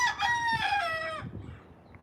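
A rooster crows loudly and close by, one long strained call that trails off into quieter clucking.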